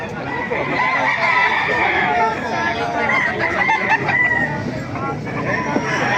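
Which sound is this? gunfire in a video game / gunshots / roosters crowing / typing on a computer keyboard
roosters crowing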